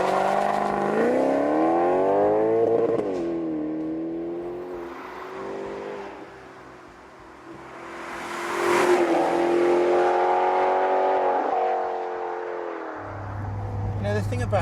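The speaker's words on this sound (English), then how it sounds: "It has a 444 horsepower V8 mounted beneath its long and rather luscious bonnet." A Maserati GranCabrio Sport with a 444-horsepower V8 revs loudly up close, its engine note sweeping up and down in rising and falling waves, ending on a deep, steady rumble.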